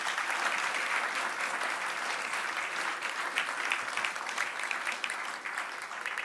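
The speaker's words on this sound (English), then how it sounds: "Round of applause, ladies and gentlemen." An audience applauds as guests are called onto the stage at a club venue for a book launch, a dense, even wash of clapping that stays steady throughout without voices.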